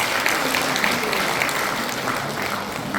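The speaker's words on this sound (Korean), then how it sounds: "큰 박수로 하답을 해주시기 바랍니다." Steady applause from an audience following a lecture at a patriotic humanities lecture series, a dense continuous wash of many hands clapping for the full stretch at moderate level with no voices.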